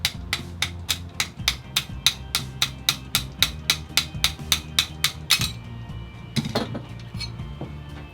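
An AR-15 front sight post being driven off the barrel with about twenty sharp, evenly spaced metallic taps over five seconds, followed by a few irregular knocks and clinks, close and with no talking.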